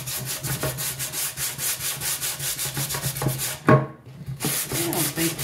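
A car headlight is hand sanded with a RAYHONG restoration kit after being sprayed wet, giving rapid rhythmic back-and-forth rasping strokes close up with a brief pause and thump midway.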